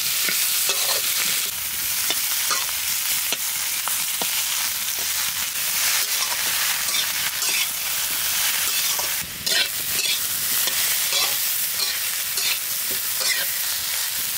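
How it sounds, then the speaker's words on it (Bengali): Taro frying with prawn paste, onion, garlic and green chili in a village-style kitchen gives a loud, dense, unbroken sizzle with frequent scraping strokes of a spatula, close by and without voices. "চিংড়ি মাছ দিয়ে সুন্দরভাবে কচুটা কষানো হয়ে গেছে"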